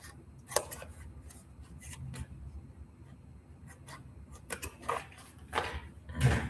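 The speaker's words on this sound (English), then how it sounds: "So cut out some gray foam." Scissors snip through gray foam while tying a fly, giving close, irregular short cutting and rustling sounds with pauses between them and no talk.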